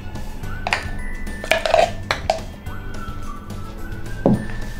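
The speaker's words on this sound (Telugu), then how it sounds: "బౌల్లో వేసుకుందాము." Tomato-mint chutney being spooned from a cooking vessel into a bowl in a home kitchen, with a few sharp metal clinks and taps of the spoon against the dishes, spaced apart over a quiet background.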